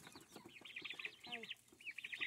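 Several hens cluck in a quick, choppy series of short calls, fairly close and clear with no talk, amid a morning farmyard flock.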